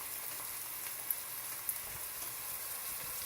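Chopped onions for a bean stew sizzle steadily in a hot pan, a soft, even crackle with a couple of sharper pops, no voices.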